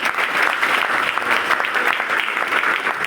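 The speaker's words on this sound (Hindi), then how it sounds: "एक बार जोरदार तालियों से इनका वेलकम किया जाए" Loud, sustained applause from an audience at a health awareness program, welcoming first-time attendees with dense, steady clapping throughout.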